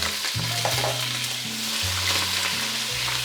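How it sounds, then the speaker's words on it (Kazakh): Eggplant fries in a pot while meat cooks nearby, a loud continuous sizzle close up with shifting tones as pieces settle in the hot oil. "Ет қуырылып жатқанда екінші қазанға баклажаннан бастап салып"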